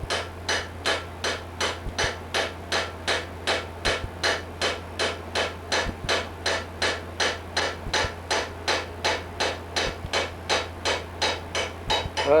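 Hammer tapping a chisel to carve an outline for a fine silver inlay, a close, even rhythm of sharp strikes, roughly two per second, continuing throughout.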